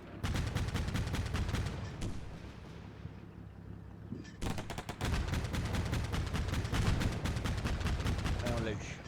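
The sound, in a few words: gunfire in the video game Combat Mission Black Sea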